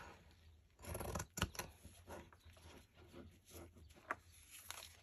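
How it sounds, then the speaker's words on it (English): Sharp scissors snip through fabric at a craft table, a few quiet crisp cuts bunched near the start and again later, soft and close with no talk over them. "So now we're going to cut this one off."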